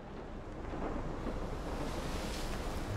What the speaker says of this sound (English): Il y a quand même une tempête.